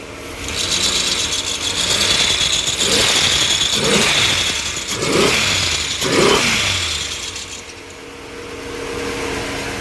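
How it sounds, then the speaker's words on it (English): A rebuilt 2005 Impala 3.4L engine runs in a 2000 Grand Am, a steady loud hum with a rasping, rubbing rhythmic pulse that swells roughly every second, close up. "But the car's running great."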